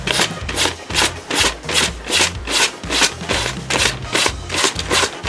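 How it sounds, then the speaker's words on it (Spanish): A nail file rasps back and forth across loose scrap wood to sand it flush, loud close strokes in a steady rhythm of about ten passes with no talking. "luego con mi lima de uñas por esta parte de aquí de detrás lo lijaré para romperlo justo al ras"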